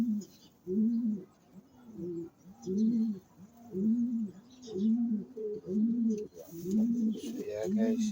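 Medium-sized male pigeon cooing close by, a regular series of about nine low, rounded coos roughly one per second, with faint chirps in the background toward the end.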